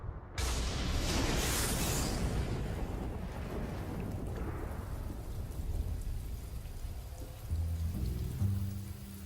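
Heavy rain pours down in the Kalahari in a dense, continuous roar, with deep rumbling underneath and a brief lull before the downpour swells again.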